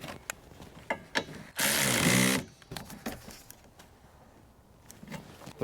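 A power tool runs in one loud, steady burst of about a second, tightening the front strut bolts on a 2011-2020 Dodge Grand Caravan, framed by sharp clicks and clanks of hand work before and after.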